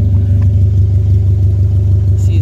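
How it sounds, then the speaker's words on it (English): A Honda Integra engine idles and pulls slowly in reverse while its exhaust drags underneath, a loud, close, steady low-pitched drone with faint rattly pulsing throughout. "So I'm gonna back the car up, and that way I align it perfectly with the exhaust that's dragging."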